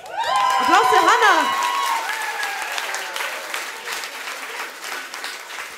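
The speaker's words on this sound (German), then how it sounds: "Applaus für Hanna!" Concert audience bursts into loud applause and cheering for a singer, starting over the final sung notes and continuing as steady clapping that slowly thins out.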